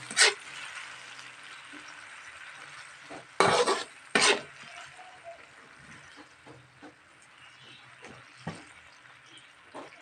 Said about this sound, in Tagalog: Pagkatapos natin magisa ang bawang, ilagay po natin ang karne.